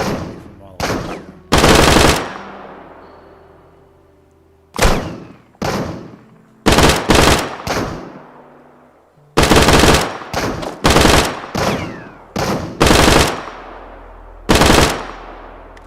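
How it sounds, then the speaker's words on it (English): Gunfire in the survival shooter Deadside: repeated loud, sharp gunshots and short bursts arriving in irregular clusters, each shot followed by a decaying echo, with near-silent gaps between volleys. "That was terrible shooting."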